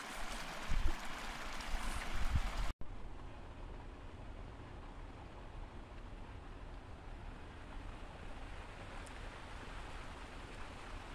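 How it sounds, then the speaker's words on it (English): Water rushing over a partially frozen waterfall in Rocky Mountain National Park in December, a steady broadband roar held at an even level throughout, after a louder, wind-buffeted opening. "partially frozen waterfall."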